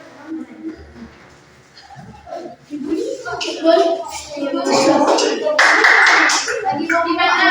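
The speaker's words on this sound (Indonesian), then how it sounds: "Masih tepuk tangan temannya" Classmates in a school classroom clap their hands in a lively burst that grows louder in the second half, mixed with children's voices and talk throughout.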